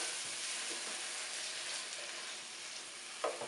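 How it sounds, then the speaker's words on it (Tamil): Curry leaves and tomatoes sauté in a pan for coriander chicken, making a soft, continuous sizzle heard faintly and evenly, with a small stirring knock near the end. "கருவேப்பிலை, தக்காளி இது போட்டு நல்லா வதக்கிக்கோங்க."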